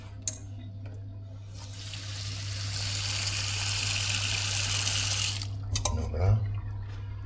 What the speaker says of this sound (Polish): Teraz troszkę wody.